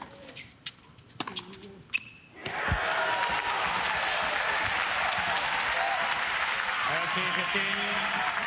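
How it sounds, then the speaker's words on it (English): A tennis crowd bursts into loud, sustained cheering and applause that fills the space after a quieter stretch of scattered claps and voices, continuing at full strength to the end. "why are these people all cheering for him?"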